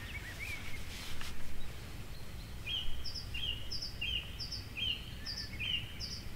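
A song thrush sings repeated short, bright phrases, each note pattern given several times in a row, fairly near over a low background rumble.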